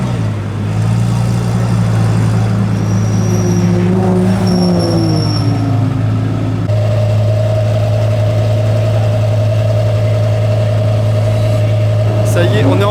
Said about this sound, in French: les voitures viennent s'installer un à un, donc on a toutes les voitures qui passent là